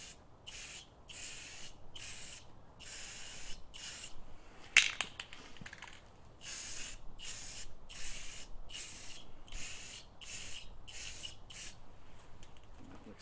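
Repeated short bursts of aerosol spray paint hiss over parts of a 1948 Farmall Cub tractor, about a dozen evenly spaced sprays with brief pauses between, fairly quiet and close with no talk.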